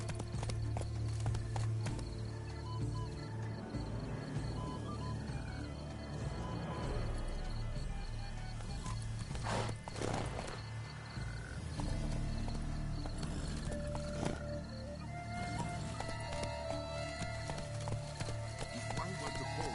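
A horse's hooves clip-clop steadily through the gardens in the video game Witcher 3, a continuous rhythmic trot sitting under game music and ambient sound.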